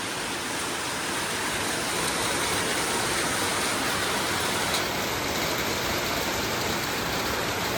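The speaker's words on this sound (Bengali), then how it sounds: "দেখেছো, রোদও আছে বৃষ্টিও হচ্ছে," Rain falls in bright sunshine, a steady broadband wash of noise like a downpour on surfaces, constant and fairly loud throughout with no speech or distinct events.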